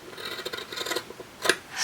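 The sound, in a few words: fabric scissors cutting fabric scraps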